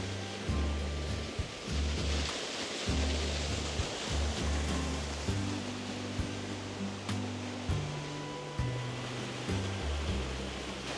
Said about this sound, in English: We have seen the second waterfall.